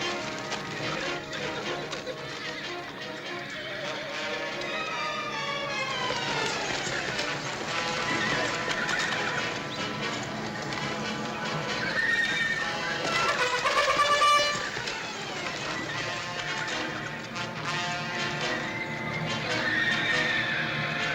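Horses in an Old West film whinny and neigh over a dense, busy soundtrack, with hooves clip-clopping along under the calls; a voice talks briefly in the mix.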